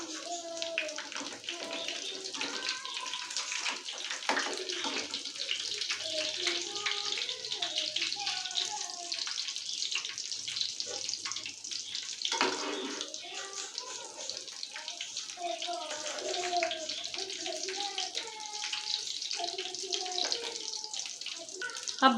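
Egg burger patties (tikkis) fry in hot oil with a continuous, dense sizzle and crackle, while someone talks over it throughout.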